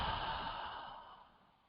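A deep, cleansing breath is let out through the mouth in one long, soft exhale that fades away in a quiet room.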